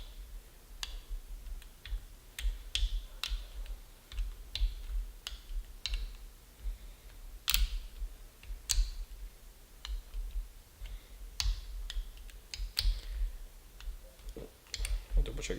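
Torque wrench clicks sharply and irregularly while tightening scope mount screws to 20 inch-pounds, with quiet handling noises and soft, close sounds between the clicks.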